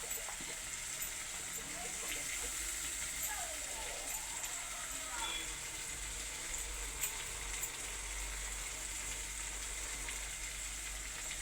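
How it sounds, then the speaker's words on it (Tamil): A ground paste of ginger, garlic, shallots, tomato and curry leaves sautés in a pan, giving a steady, close sizzle with occasional faint clinks and stirring. "நல்லா பச்சை வாசம் போக வதக்கணும்."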